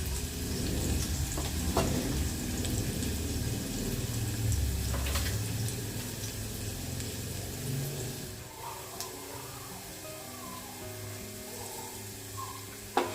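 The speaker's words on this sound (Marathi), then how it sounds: "ही पेस्ट टाकायच्या आधी आपल्याला कांदा चांगला शिजवून घ्यायचा आहे" Onion sizzles and crackles while cooking in a pan, a steady close fry with occasional stirring knocks that fades to a quieter hiss partway through, followed by a sharp clink at the end.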